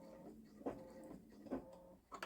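A Baby Lock Solaris sewing machine runs a secure stitch, giving short rapid whirring bursts with a steady mechanical hum, close by and fairly quiet, with no talking.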